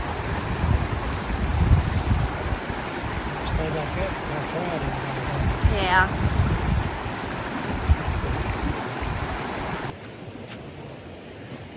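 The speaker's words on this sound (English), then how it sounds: "that wet weather spring is flowing down the garden" A wet-weather spring runs down through a garden outdoors, a continuous rushing wash of flowing water mixed with wind buffeting the microphone, with brief talk and a bird chirp partway through.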